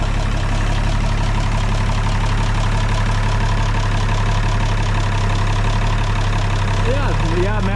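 An old Farmall tractor idles on a Montana farm with a continuous, close, low engine drone and deep rumble throughout, and some voice sounds mixed in.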